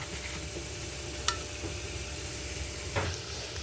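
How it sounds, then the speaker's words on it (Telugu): Vadiyalu, dried lentil fritters, frying in hot oil in a home kitchen pan, giving a soft, steady sizzle with a couple of sharp clicks of a utensil against the pan. "వడియాలు వేయించుకుంటున్నాను"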